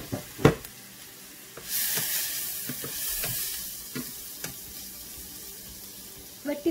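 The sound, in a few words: carrots frying in a pan for egg fried rice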